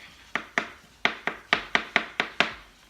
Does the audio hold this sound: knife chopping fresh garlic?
yes